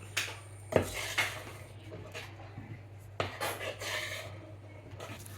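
Cupcake batter folded by hand in a bowl, giving soft scraping and occasional light clinks of a utensil against the bowl, with a few sharper taps, close and fairly quiet.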